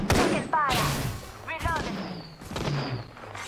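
Gunfire in the battle royale game Apex Legends, with sharp bursts of shots at the start, around 1.5 seconds and again near 2.7 seconds, loud and close, mixed with game voice callouts and other in-game effects.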